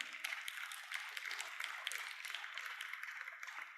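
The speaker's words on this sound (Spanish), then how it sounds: "Fuerte aplauso." Church congregation clapping at a Spanish-language service, a faint but steady flurry of many hands, distant and thin, continuing evenly throughout.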